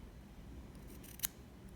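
A single quick snip of scissors trimming cotton wicks on a vape RDA, faint and close, a short crisp click over a low steady background hum.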